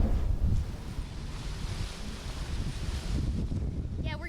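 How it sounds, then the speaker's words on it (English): Strong wind gusts from Hurricane Ida's landfall around Kenner and Jefferson Parish, Louisiana, roar and buffet the microphone in a loud, continuous rush that swells and eases without a break. "Strong wind gusts now"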